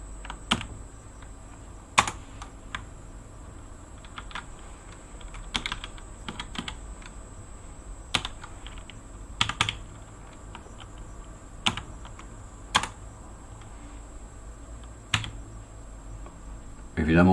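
Sharp, scattered clicks from a sensitive computer keyboard during typing, irregular single taps and short bursts over a low steady room hum.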